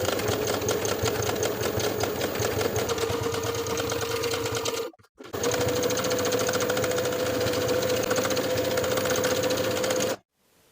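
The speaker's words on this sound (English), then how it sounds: "I'm going to top stitch the seam allowance in place twice" A sewing machine topstitching a denim skirt seam runs in a fast, steady buzzing whir, stops briefly near the middle, resumes, then cuts off just before the end.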